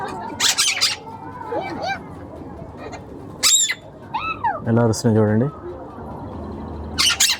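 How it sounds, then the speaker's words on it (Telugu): Slender-billed parakeets at Prague Zoo give several short, harsh squawks in bursts, mixed with someone talking nearby over background chatter. "ఇది స్లెండర్ బిల్ పారాకిట్."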